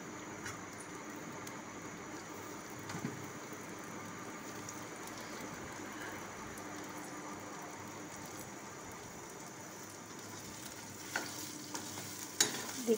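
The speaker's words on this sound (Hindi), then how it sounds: "अब देखिए उसमें मैं डाल रही हूँ तलने के लिए।" Soybean chunks frying in hot oil in a home kitchen pan, giving a steady, moderately quiet sizzle with light stirring clinks and a few sharper pops near the end, no talking.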